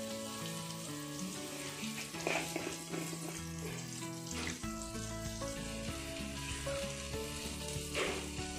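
One tablespoon of butter melting in a hot pan over a low flame, a gentle continuous sizzle under soft background music, with light clinks now and then.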